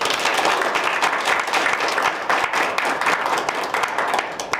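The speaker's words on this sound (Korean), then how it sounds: "오래 활동해 주신 분들한테 감사의 박수를 좀 부탁드리겠습니다" Members at a business networking chapter meeting give a round of applause, a moderately loud, uneven burst of many hands clapping with individual claps standing out.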